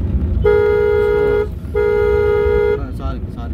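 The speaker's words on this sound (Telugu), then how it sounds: "హార్న్ అవుతుంది." A car horn blares twice during a driving lesson, each honk a steady tone of about a second with a short gap between, loud and close over the engine and road noise inside the car, with an instructor talking nearby.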